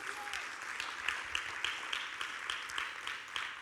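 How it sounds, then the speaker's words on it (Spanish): A church congregation claps in steady, continuous applause, a dense patter of many hands at moderate volume. "¿Cuántos pueden darle un fuerte aplauso a nuestro Dios?"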